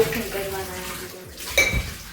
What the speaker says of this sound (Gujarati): એ વાસણ ઉટકે હે